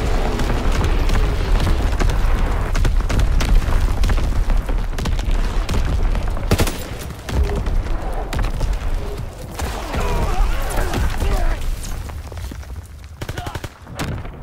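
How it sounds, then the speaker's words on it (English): Incoming artillery explosions in the video game Call of Duty: WWII, loud continuous booms and heavy gunfire rumbling throughout, with a voice speaking over the barrage. "Incoming enemy artillery. Get to cover."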